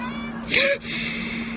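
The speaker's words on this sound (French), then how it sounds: "Pourquoi il n'y a pas de chat et ça miaule" A cat gives a single short, plaintive meow close by, rising then falling, over a steady background hum.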